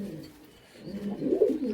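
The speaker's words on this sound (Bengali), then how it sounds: "আপনাদেরকে দেখাবো একটা চীনা কবুতর" A Chinese pigeon gives a single rolling coo that swells and peaks near the end, close and fairly loud with no talk over it.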